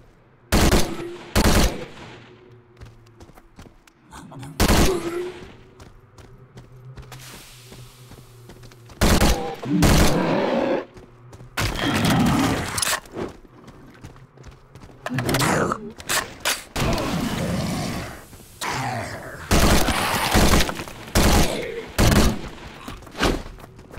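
Bursts of gunfire from the mobile zombie shooter game Zombie State, with repeated loud volleys and rapid automatic fire in uneven clusters separated by quieter game ambience and brief thuds.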